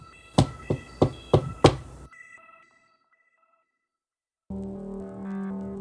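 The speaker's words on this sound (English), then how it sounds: "he hears a knock on the door" Five evenly spaced knocks on a door, loud and close, followed by a short silence and then a soft sustained musical tone for a story sound effect.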